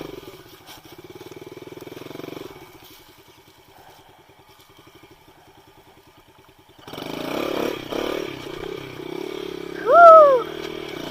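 A dirt bike engine revs while the rider pulls wheelies: a steady mid-range drone at first, a quieter idling stretch, then a louder burst of revving near the end with a short whooping cry on top.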